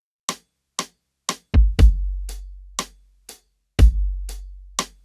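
Two layered 808 kick drums, a punchy thud 808 stacked with a plain 808, in an indie production session: a steady run of short clicky hits, with a few heavy booming kicks whose long low tails ring out, loud and alone.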